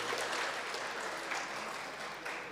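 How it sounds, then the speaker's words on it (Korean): Congregation at a Sunday church service applauds to welcome visitors, a soft, distant wash of many hands clapping steadily throughout. "박수로 한번 환영해 주시겠습니까?"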